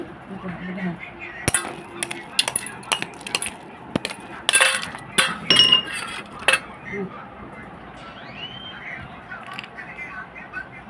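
Homemade mango juice with ice is poured into a glass, giving a run of sharp clinks and knocks as the ice shifts and strikes the glass in irregular bursts, close and fairly loud.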